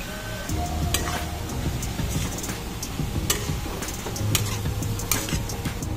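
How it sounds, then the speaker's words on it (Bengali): Shredded cabbage and thin-cut carrot stir-fry in a pan, with a steady sizzle and rapid clicks of a utensil scraping and stirring throughout. "বাঁধাকপিটাও ভালো করে আমি ফ্রাই করে নেব।"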